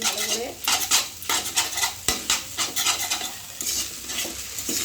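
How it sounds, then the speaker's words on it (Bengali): Maggi noodles fry in a pan while a utensil stirs them, making steady sizzling with repeated scraping and clinking of metal against the pan. The sounds are close and loud, with no talking. "এরপর এটা ভালো করে ভাজতে হবে আর কি, এভাবে"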